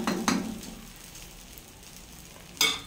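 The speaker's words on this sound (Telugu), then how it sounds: "ప్లెయిన్గా దోశ పోస్తున్నా ఇప్పుడు" Plain dosa batter meets a hot pan with a soft frying sizzle, marked by short bright hiss bursts near the start and a louder one near the end, with quieter crackle between.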